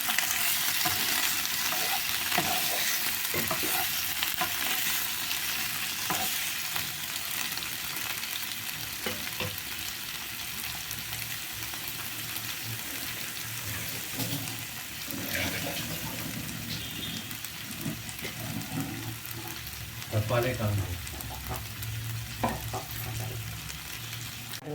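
Onions and large tomatoes sauté in a kadai, a continuous loud sizzle with repeated stirring scrapes and clinks throughout, close up, no talking.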